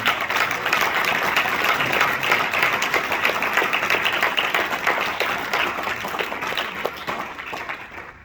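Congregation applauding during a church service, a sustained, dense round of clapping filling the sanctuary for several seconds and tapering slightly toward the end.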